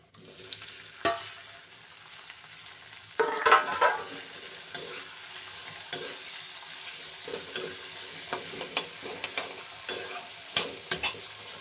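Tomatoes, ginger, onion and curry leaves fry in a pan for a vegetable masala upma, a steady sizzle broken by repeated scraping strokes of a spoon and a louder burst as more ingredients hit the oil.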